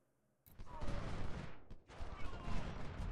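Massed Civil War musket volleys crackle in a strategy battle at Malvern Hill, a sudden burst of overlapping gunfire that rolls on, dips briefly, then resumes with more ragged shots under a faint voice.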